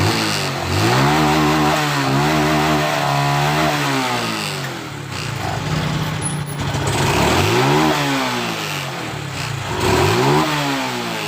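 A 2018 Suzuki Suprax 125 motorcycle engine runs just after a cold start, with repeated revs rising and falling in pitch between stretches of steady idle, loud and near, with no talk.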